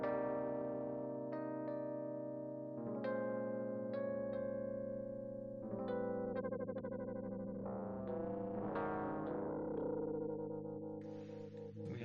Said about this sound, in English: Or a ring mod.